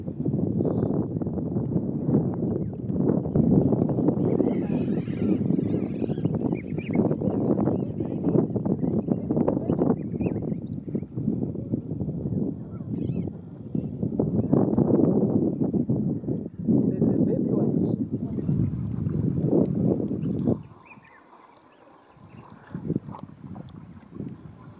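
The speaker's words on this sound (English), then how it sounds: "I'm in a canoe on the Zambezi River in Zambia. And we're just cruising along here." A canoe glides along the Zambezi River in Zambia, with continuous low rushing water and wind buffeting the microphone, then a sudden drop to quieter lapping near the end.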